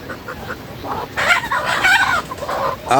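Sonali chickens on a small farm cluck and squawk close by, their calls rising louder midway and carrying on in uneven bursts, with no talking.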